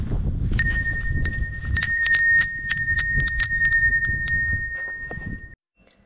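A small bell at the summit flag on the Via degli Dei hiking trail is struck repeatedly in a quick irregular series of bright metallic rings, close and loud over outdoor rumble, then stops abruptly.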